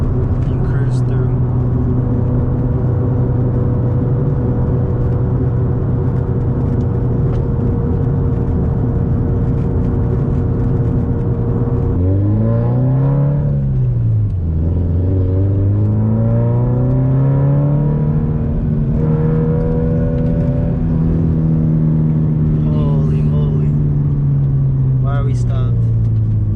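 A supercar cruises along a touring road, its engine a steady loud drone that dips and swells as it shifts and revs, close and continuous, with a voice talking over it.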